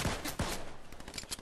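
A quick burst of Fortnite gunshots, several sharp cracks in fast succession, fairly quiet and close, with no voices over them.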